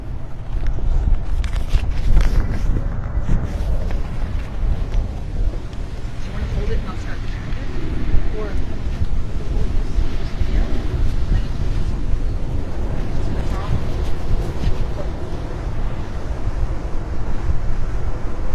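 A boat departs Pier 66 Marina in Fort Lauderdale with a steady, loud, low rumble mixed with buffeting wind and water noise that runs throughout.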